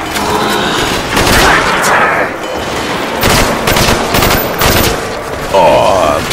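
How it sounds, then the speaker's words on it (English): M16 rifle fire in the Black Ops Zombies map Kino der Toten, with loud, dense bursts of automatic gunfire that run almost continuously, mixed with game sounds and a voice talking. "The M16, one of my favorite deadly weapons."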